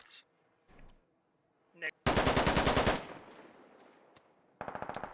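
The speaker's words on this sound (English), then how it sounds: "Bartok is pretty much hitting all of his shots on the turret of the MRAP." Bursts of automatic gunfire from the Squad military shooter game, aimed at the turret of an MRAP armored vehicle: a long rapid volley in the middle, a shorter burst at the end, and fainter scattered shots before, with no speech.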